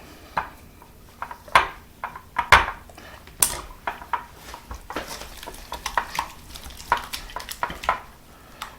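Dill sauce ingredients with lemon juice and dried dill are stirred together in a bowl, a spoon scraping and clinking against the sides in quick, uneven strokes, close and fairly loud with no voices.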